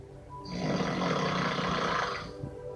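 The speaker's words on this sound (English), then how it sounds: "Listen to that snore." A man snoring while asleep during a basketball video game chat session: one long, rough, rattling snore lasting about two seconds, loud and close, alone with no talking.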